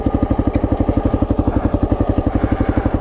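A Kawasaki KLR 650 or Suzuki V-Strom 1000 motorcycle engine running while riding, a loud, close, rapid and even thumping pulse throughout, with no talk over it.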